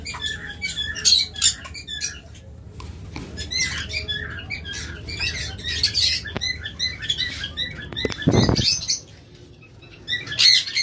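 Lovebirds in a breeding setup chirping in quick bursts, with a short flurry of wing flaps in the middle, close and lively against a quiet background.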